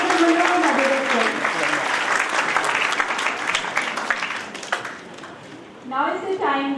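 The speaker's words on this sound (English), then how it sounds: "Please big round of applause for Professor Manohar Badekar, sir." Audience at an international college conference applauding a professor, a dense crowd clapping that runs loud and fades near the end, with a voice speaking over its start and someone talking again as it dies away.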